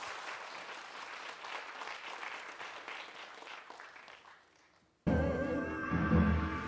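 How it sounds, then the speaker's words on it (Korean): An audience claps at a Korean traditional music concert, dense applause fading out, then cutting abruptly to a louder hall ambience with tonal sound. "여러분 큰 박수로 맞이해 주시기 바랍니다."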